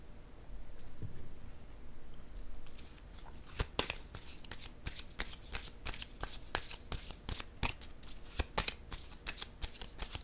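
Playing cards handled and set down on a table: quiet rustling, then a flurry of crisp flicks and soft slaps, close and low in level, with no talking.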